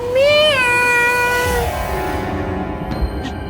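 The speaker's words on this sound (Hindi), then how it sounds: "घर में बिल्ली आ गई है।" A cat meows loudly and up close with one long, drawn-out, rising-and-falling call that trails off into a quieter tail, with no one talking.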